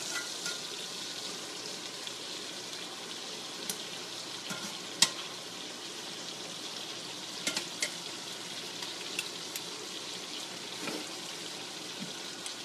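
Shrimp fry in a pan with a steady, soft sizzle and crackle, broken by a few sharp clicks of utensils against the pan, with no talking.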